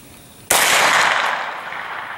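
A single loud, close AR-9 rifle gunshot at an outdoor range, a sharp crack followed by a long, slowly fading ringing tail.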